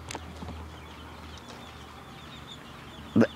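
A backyard chicken gives a brief, sharp cluck near the end, standing out over quiet outdoor ambience, with a faint earlier bird call at the start.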